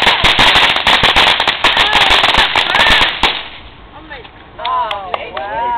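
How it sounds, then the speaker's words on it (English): Fireworks go off at a house: a dense rapid string of sharp crackling bangs for about three seconds, then quieter pops with voices talking nearby. "All right, Mary, get your fireworks and let's go"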